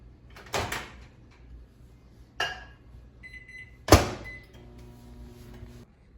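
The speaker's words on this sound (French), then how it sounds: "on va faire fondre le beurre dans le micro-ondes" A microwave oven in a home kitchen melting a cup of butter: the door bangs shut, buttons beep, and a steady hum with tonal whine runs as it heats, with a few knocks in between.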